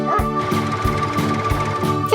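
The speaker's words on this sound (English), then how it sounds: "our farm dog, barks and alerts" A farm dog barks in a short burst of loud, close yips over a steady background tone.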